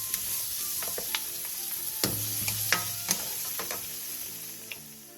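A Korean side dish stir-fried in a pan over a steady sizzle, with a spatula scraping and clicking against the pan at irregular intervals.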